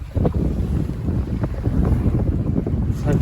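Strong wind buffets the microphone aboard a 20 foot trailer sailer crossing the North Sea, a loud continuous rush with gusty surges and the wash of water against the hull.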